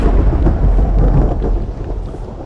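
Loud, close thunder rumbling through a thunderstorm in Minecraft, a heavy sustained roll with rain pattering underneath, no voices.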